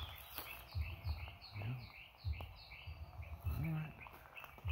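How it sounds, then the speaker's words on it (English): Birds sing outdoors, a series of rapid chirping calls repeating overhead, faint against a low background hum with occasional low thumps. "You hear the birds? You hear those birds?"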